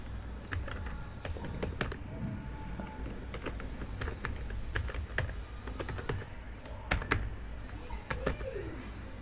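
Typing on a computer keyboard: a steady run of quick, close key clicks with occasional sharper taps over a low background hum, no voices.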